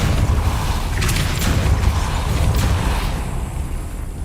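Grinding, rumbling spinning mechanism raising a stone platform in Hogwarts Legacy, a continuous heavy churn with whooshing surges, steady and close.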